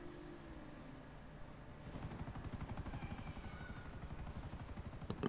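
A helicopter in a multiplayer racing video game, a low, steady rotor thump that builds from faint to moderately loud with rapid chopping pulses, alone with no talk.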